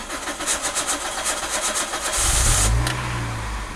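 A car engine that has stood unused for nine months cranks with a rapid, rhythmic churning for about two seconds, then catches and fires into a loud, rough idle that settles steadily.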